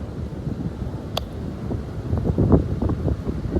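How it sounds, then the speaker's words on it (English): Low, rumbling wind buffets the microphone outdoors in steady gusts, with a brief sharp click partway through. "It's windy out here"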